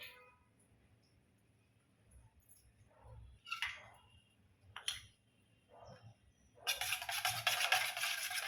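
Homemade face cream with cornflour is stirred in a bowl: a few soft, scattered scraping strokes in a quiet room, then a loud, steady rushing scrape near the end.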